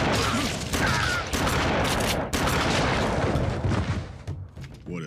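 Dense, continuous gunfire from an anime shootout, with overlapping automatic bursts and booming shots filling the scene loudly before tapering off near the end.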